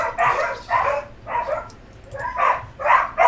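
A dog barks in short bursts, three quick barks, a brief pause, then three more, fairly close and loud with little else around.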